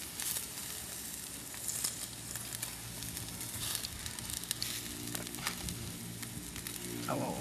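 Pork fries in a hot pan with a dense, continuous sizzle and scattered pops and crackles, loud and close with no talking.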